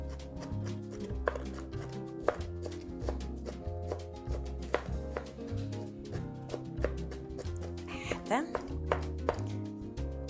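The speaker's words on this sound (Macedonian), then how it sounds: "Дополнително исецкајте, за да биде баш ситни парченца." A knife chops vegetables finely on a board for a fusilli dish, a quick, even run of sharp knocks repeating close up, with a voice speaking over the chopping.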